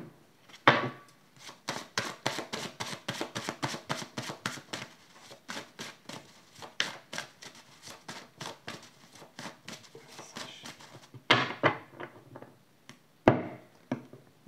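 Two tarot decks shuffled together make a long run of quick, crisp card snaps and riffles, close and fairly soft, with brief flurries near the end and no talking.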